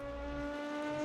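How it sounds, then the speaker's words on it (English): Race car engine in the rFactor 2 simulator, heard from outside during an endurance series test drive: a steady, held engine tone with a strong harmonic drone, brief and moderately quiet, with no talk. "They did a great job in the sounds in this car too, and the backfires."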